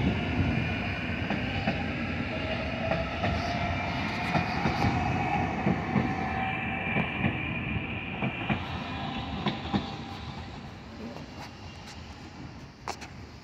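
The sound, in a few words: train cars passing on rails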